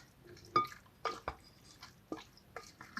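A spoon stirs food in a pot, making soft, irregular wet clinks and squelches spaced about half a second apart, quiet and close, with no talking.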